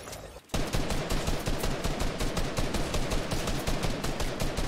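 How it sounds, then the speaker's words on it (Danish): Rapid gunfire in the video game Fortnite, a loud, fast train of evenly spaced shots that starts abruptly after a short quiet moment and continues steadily, with no talking. "det er skud"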